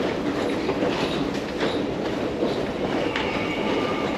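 A subway train in a Chinese station, a dense, steady rumble of wheels and carriages with faint clicking and brief squeals, loud and continuous, with no talking.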